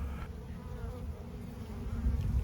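A low, steady buzzing drone of many honey bees in a weak hive hums throughout, close and continuous, with no voices.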